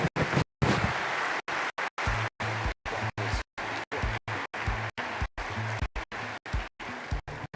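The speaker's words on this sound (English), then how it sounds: "Can we give them a warm round of applause?" An audience at the ADIPEC 2022 opening ceremony claps together, a steady, moderately loud burst of applause that fills the whole stretch.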